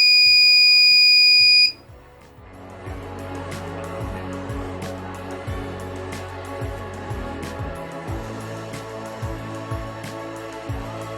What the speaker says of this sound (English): the buzzer will go off.